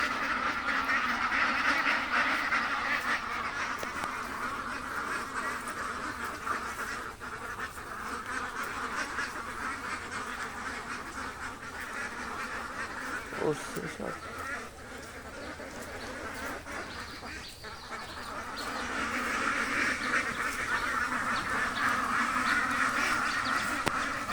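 A flock of frightened ducks quacks continuously, a dense, loud chorus of overlapping calls that dips briefly midway and then swells again.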